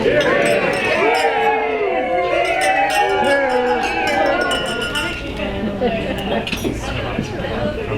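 At a wedding, guests clink glasses together in a toast, and many bright chimes ring out over loud crowd chatter and cheering.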